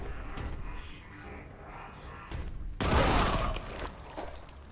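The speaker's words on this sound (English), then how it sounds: "So it looks like I have to activate the quake cannons." Quake cannons fire in the Warhammer 40K Boltgun video game, a sudden loud broadband blast cutting in partway through and rumbling on with a heavy roar over earlier game noise.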